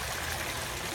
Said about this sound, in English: and then the fish, we recirculate the water